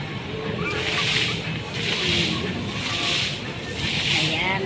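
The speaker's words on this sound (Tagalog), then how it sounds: "pagbulwak ng tubig ng fountain" Water gushes from a public fountain in Valenzuela, a steady, loud rushing and splashing that swells and eases in slow pulses, with crowd voices in the background.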